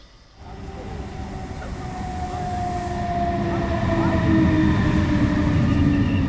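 A train approaches and rolls past, its low rumble steadily building in loudness with a whining tonal hum and rattling wheels.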